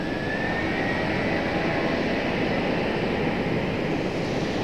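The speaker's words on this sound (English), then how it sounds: "it was the JetBlue A220" A JetBlue Airbus A220 passing at night near Raleigh Durham International, a steady broadband jet roar that stays loud and even throughout, with a faint rising whine above it and no voices.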